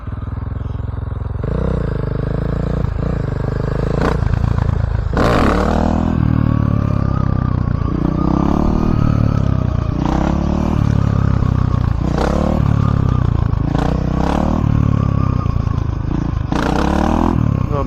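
A motorcycle engine revving hard on the road while the rider pulls a wheelie: repeated throttle surges rise and fall in a steady rhythm, loud and close, with a few sharp clattering knocks.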